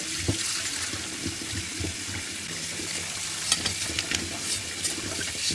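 Fresh pork belly is washed under running tap water in a home kitchen, a steady close stream with intermittent splashes and rubbing sounds as the meat is handled.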